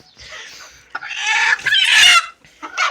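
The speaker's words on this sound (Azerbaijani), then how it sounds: "İçində belə kənd toyuqları var bir neçə dənə." Village chickens cluck and squawk close by, with several loud bursts of excited calling and short gaps between them.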